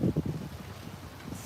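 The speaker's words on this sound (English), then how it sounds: "it's windy here today." Gusty wind buffets an outdoor microphone somewhere in Asia, low rumbling blasts strongest at the start and then easing into a steady, softer roar.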